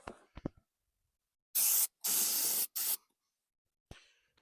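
An aerosol spray can hisses onto the underside of a project car in three short, loud bursts, with faint clicks and handling sounds before and after.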